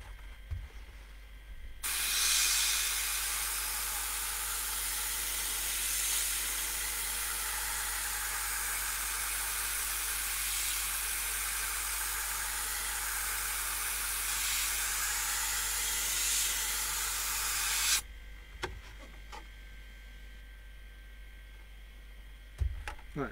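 An airbrush spray gun sprays paint onto a 1/10th-scale Tamiya RC car body shell, a loud, steady hiss that runs unbroken for about sixteen seconds and then cuts off, leaving quiet room sound.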